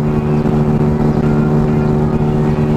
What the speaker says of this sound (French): Là je suis au max de la machine. Elle ne peut pas faire mieux que ça.